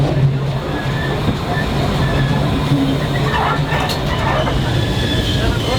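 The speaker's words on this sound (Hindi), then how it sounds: "चाय के बागान से निकली हुई हमारी ट्रेन" A heritage passenger train runs through tea gardens from Siliguri toward Rangtong, giving a loud, continuous low rumble and rolling rail noise with faint clatter, close and unbroken throughout.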